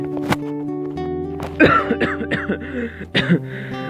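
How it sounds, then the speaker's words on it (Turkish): A few short, sharp coughs break through over a steady low hum, loud and close, with a brief pause between bursts. "Bu kesik öksürükler askerden kalma."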